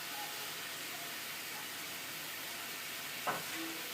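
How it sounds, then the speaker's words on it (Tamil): A pot of sambar simmers with a steady soft hiss and bubbling, continuous and even, with a brief clink near the end. "கொதிக்கட்டும் கொதிக்கட்டும்."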